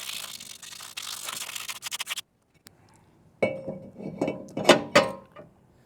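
Sandpaper scrubs rust off a car's brake hub and the back of the brake disc in quick, rhythmic rasping strokes, then stops briefly before rougher scraping resumes with a few metallic clinks, all close by.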